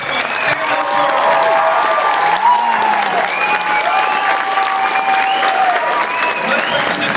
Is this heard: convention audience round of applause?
yes